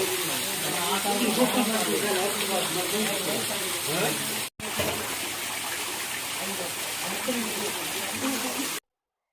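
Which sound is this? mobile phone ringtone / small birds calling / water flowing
water flowing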